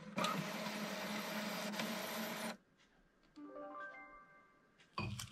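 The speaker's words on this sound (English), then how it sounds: "So all that remains now is for me to print the labels." An inkjet-style printer printing mead bottle labels, a loud broadband mechanical whir for a few seconds, a pause, then faint stepped whines as the carriage moves, and the loud feed noise returning at the end.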